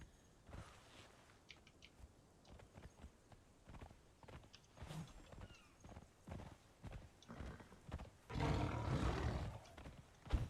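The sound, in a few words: horse hooves clip-clopping in video game Conan Exiles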